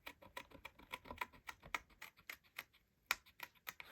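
Pergamano scissors snipping out a paper design, with a quick, irregular series of small crisp clicks and snips, close and quiet.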